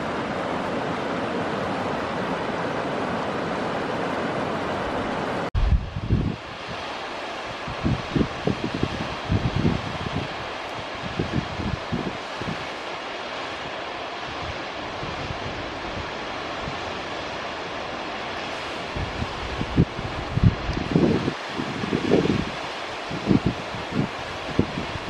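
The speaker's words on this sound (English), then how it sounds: "It's a beautiful creek." Glen Creek, a Sierra Nevada mountain creek, rushes steadily in a continuous wash of flowing water, with occasional nearby bumps and rustles over the constant stream.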